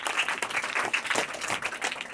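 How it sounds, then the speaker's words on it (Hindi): Students in a classroom clap together in steady, dense applause that continues for a couple of seconds at moderate loudness, with no voices on top. "चलिए इसके लिए भी जोरदार तालियां होना चाहिए।"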